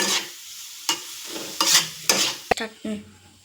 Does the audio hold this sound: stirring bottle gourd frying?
yes